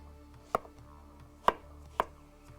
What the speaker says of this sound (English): So I'm just going to cut this down into a rough chop.